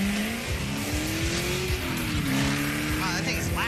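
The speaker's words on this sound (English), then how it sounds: "God, it sounds like a NASCAR driving around this." A 1,000 horsepower race car on racing fuel roars loudly and steadily throughout, its engine note rising and falling with tire squeal and skidding from spinning tires.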